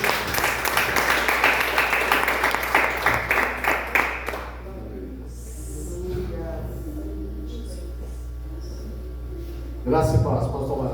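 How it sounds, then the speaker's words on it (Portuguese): A church congregation claps during a Lord's Supper service, a dense, rhythmic burst for about four seconds that fades into a quiet room, with a voice returning near the end. "Aplauda ao Senhor em nome de Jesus."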